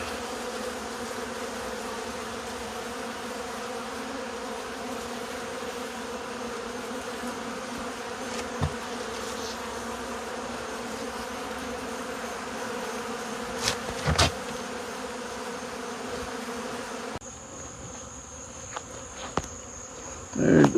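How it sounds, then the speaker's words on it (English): A swarm of honey bees clustered under a shed floor gives off a continuous low droning hum, steady and moderately close, with a few faint knocks and a shift in tone near the end. "There's a big glob of bees up under this building and in the floor."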